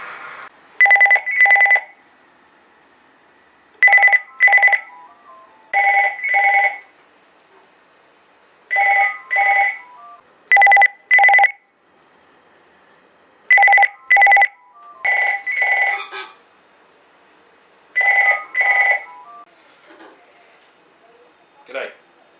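A telephone ringing with repeated double trills separated by pauses, loud and close, looping several times.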